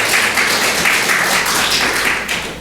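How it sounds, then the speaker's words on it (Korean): A church congregation claps to welcome a guest during a Sunday service, a thick, even roar of many hands that holds steady and then eases off slightly at the end. "큰 박수로 환영합니다."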